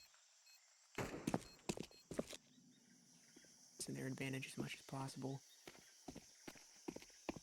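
Heavy footsteps in Counter-Strike come as a quick run of close, rhythmic thuds in a competitive match, heard between bursts of excited commentary.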